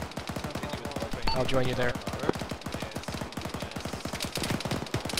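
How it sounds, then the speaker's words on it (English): Enemy gunfire rattles through a military shooter game as rapid, evenly spaced bursts of shots, medium loud, with brief radio-style voice chatter breaking in partway through. "It looks like something's shooting at us from the north"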